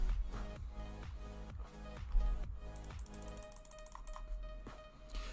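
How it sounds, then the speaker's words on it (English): Someone types hard and fast on a computer keyboard, a dense run of close clacking keystrokes with a few louder strikes, heard while a PokeMMO game plays in the background. "I'm just a really aggressive, loud typer."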